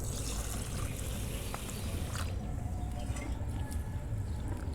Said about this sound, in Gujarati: ચોખાને ધોઈ લઈશું.